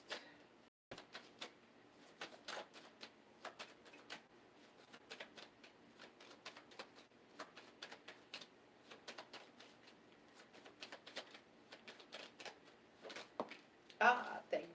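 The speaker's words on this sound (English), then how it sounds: "All right, let me shuffle." Tarot cards are shuffled by hand in a series of quiet, close riffles and taps with irregular pauses, soft against a hushed room.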